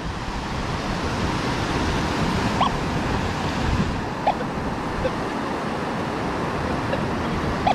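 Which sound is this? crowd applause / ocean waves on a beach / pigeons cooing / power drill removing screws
ocean waves on a beach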